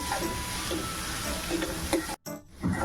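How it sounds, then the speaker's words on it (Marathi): Chopped onion sautés and sizzles in a pan for paneer bhurji, with a steady soft frying hiss and a few scraping stirs, then a brief drop to quiet before the sizzle returns. "कांदा मस्त असा परतवून घ्या आणि कांदा छान असा मऊ झाला पाहिजे"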